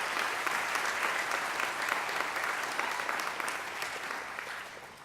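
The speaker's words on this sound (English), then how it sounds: "So I want to give yourself a round of applause." An audience applauds at a matriculation ceremony, a dense, even wash of many hands clapping in a large room, sustained and then tapering slightly toward the end.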